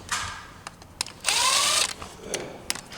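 A power tool, likely an impact driver, tightens bolts on a CFMOTO CFORCE 800 ATV during an oil and filter change: several short bursts and one longer whirring run of about half a second, close and fairly loud, with no talk.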